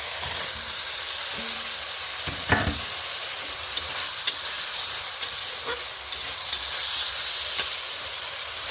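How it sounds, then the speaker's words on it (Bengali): Fried vegetables stirred into oil cooked with spice paste, hissing in a steady broadband sizzle with a few scraping stirs and light clinks near the pan, no voices over it. "এখন সবজিটা দিয়ে আরও 1 মিনিট ভেজে নেব।"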